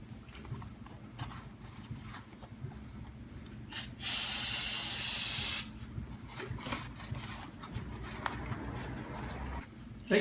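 Brake cleaner is sprayed from an aerosol can while servicing a Super8 150 scooter's pulley: one loud, steady hiss lasting under two seconds amid quiet rubbing and handling noises.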